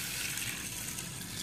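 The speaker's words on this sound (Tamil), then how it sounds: "இது தண்ணி ஊற்றி ஊற வச்சுருக்கோம் நம்ம." Water pouring steadily over lentils being set to soak for dosa batter in a home kitchen, a continuous close gushing rush with no talk.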